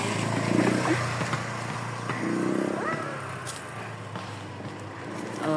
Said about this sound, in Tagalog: Oh, babe, may motor.